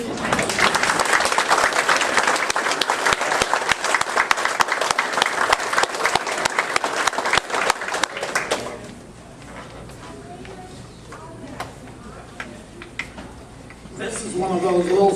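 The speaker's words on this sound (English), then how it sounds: "So she needs at least 2 more rounds of applause." Family reunion guests applauding their organizer: dense, loud clapping from a crowd for about eight seconds, then dying away into quieter room murmur and talk, with a voice starting up near the end.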